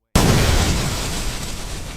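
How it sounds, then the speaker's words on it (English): A bomb goes off in a thriller film with a sudden loud blast after near silence, followed by a heavy, rumbling roar that slowly fades over about two seconds. "Charlie heads to Primorsk, killing Ailish instantly in a fiery explosion."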